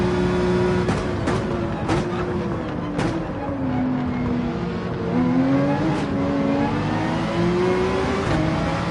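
Porsche 911 race car engine in Gran Turismo 7 on the Nürburgring, droning steadily throughout with rising and falling revs and a few sharp shift clicks, loud and close, with no talking.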